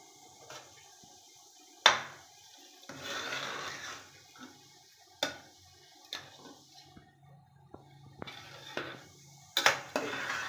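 Tomato rice is mixed in a pot, with scattered clinks and scrapes of a spoon against metal and soft squishy stirring between the quiet gaps.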